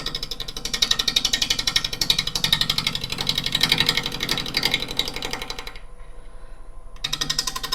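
Lathe tool taking light cutting passes along the edge of a long wood burl at about 12% moisture with a crack down the middle, a steady rapid rattling chatter that cuts out briefly near the end before resuming.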